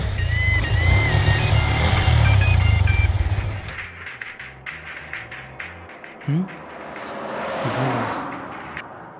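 A motor vehicle engine runs with a steady, loud drone while riding, then cuts away to quieter, patchier sounds with scattered taps and a few brief tonal bursts; people talk at points.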